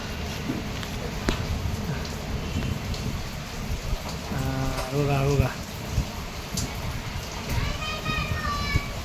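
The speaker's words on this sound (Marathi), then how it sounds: "भरपूर पाऊस चालू आहे बघा छान असा पाऊस पडतोय" Heavy monsoon rain falls as a steady hiss, with children's voices and nearby talk running over the downpour.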